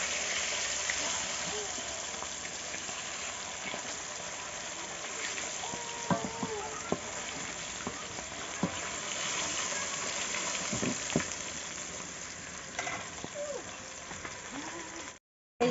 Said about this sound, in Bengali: এই পাশটা একটু উল্টে দেবো আর একটু ভালো করে ভেজে নেব।